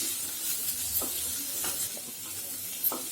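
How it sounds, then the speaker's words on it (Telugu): Green beans curry with onions and turmeric stirred in a pan on a low stove flame, steady sizzling hiss with a few scraping strokes of the spoon, close up, no talk. "పసుపు కూడా వేసుకొని బాగా కలుపుకోవాలి."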